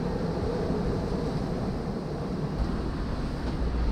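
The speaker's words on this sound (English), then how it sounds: "30 knots of wind." Strong wind of around 30 knots blows over a sailboat at sea, a steady broadband rush with microphone buffeting that holds at a constant level, with no talking.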